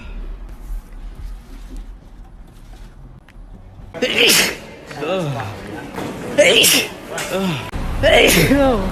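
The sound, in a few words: sneeze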